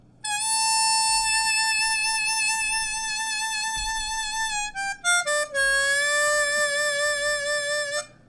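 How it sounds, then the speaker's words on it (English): A C harmonica sounds a sustained hole 6 draw with an embouchure vibrato that wavers the pitch, then slides through a few shorter notes before settling on another held, wavering tone, clear, close and alone. "I'm on my C harmonica here"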